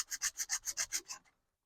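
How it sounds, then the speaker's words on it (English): About eight quick, even strokes of sandpaper rubbing back and forth on a flat surface, close and fairly quiet, then stopping. "then just give it a sanding until that bubble's gone"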